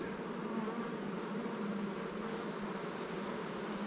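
Honeybees buzz around beehives in a dense, continuous droning hum, steady and close with no voices.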